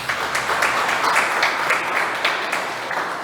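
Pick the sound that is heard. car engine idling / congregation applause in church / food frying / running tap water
congregation applause in church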